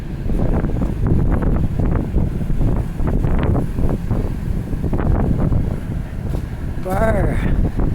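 Cold wind gusts outdoors on a city walk between Scotia Square and Gottingen and Brunswick streets in Halifax, a loud, constant rumbling buffet against the microphone throughout, with a brief voice near the end.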